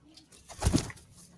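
Pigeons give a short, close burst of low cooing mixed with a quick flutter of flapping wings, rising and fading within about a second against a quiet background.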